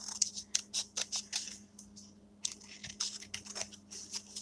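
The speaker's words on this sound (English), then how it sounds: "I can run the scissors right along this and cut it." Scissors snipping through thick paper for a junk journal cover, a close series of sharp crisp cuts in uneven rhythm with short pauses, against a faint steady hum.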